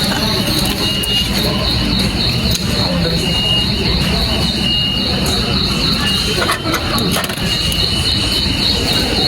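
A New York City R subway train rumbles loudly and steadily nearby, with a high metallic whine and faint squeals running over the constant roar.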